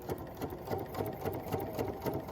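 A Bernina 880 sewing machine pieces a quarter-inch seam with a 57D foot, a quick, even mechanical whir and patter of stitching, close but soft and steady throughout.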